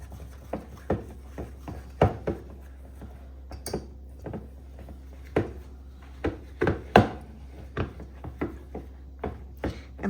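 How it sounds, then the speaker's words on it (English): Whisking a glaze of pineapple juice: irregular light taps and clinks of a whisk against a bowl, a quick scattered rhythm above a low steady hum. "And then we're just going to whisk that up."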